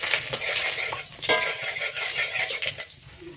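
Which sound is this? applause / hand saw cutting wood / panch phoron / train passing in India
panch phoron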